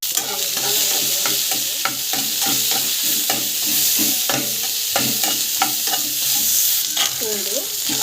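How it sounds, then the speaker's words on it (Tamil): Onion and chilli sautéing in hot oil for a homemade chutney, a loud continuous sizzle broken by frequent rhythmic scrapes and clanks of a spoon stirring against the pan, close up. "ஆயில் போட்டு ஆயில் நல்லா காய்க்கும். ஸோ ஆனியன், மிளகா, நல்லா வந்து வதங்கும்."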